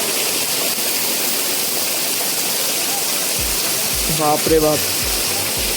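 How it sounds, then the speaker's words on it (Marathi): Heavy rain pouring down outside in a steady, loud hiss that fills the whole stretch, with a man's exclamation breaking in near the end. "पाऊस बघा किती जोरात लागलाय"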